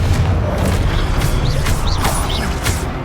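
A Confringo explosive spell cast in Hogwarts Legacy, a loud rumbling blast with crackling magical whooshes and chirps layered over a dense low-end boom lasting a few seconds.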